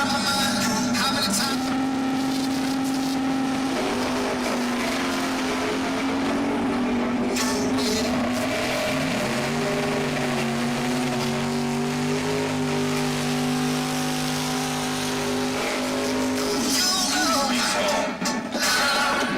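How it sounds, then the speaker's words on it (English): A dragster engine roars loudly through a burnout at a drag strip, its revving pitch holding and then shifting as the run continues, with crowd and track noise around it. "Don't be pussyfooting around with the burnouts. That's how you do a burnout."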